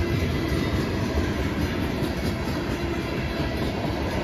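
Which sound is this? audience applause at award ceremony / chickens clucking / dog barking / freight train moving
freight train moving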